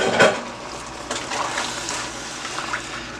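Rinse water from a bowl that held turkey wings pours into a cooking pot of Barbados-style brown stew, a steady close splashing stream over a few seconds with no talk.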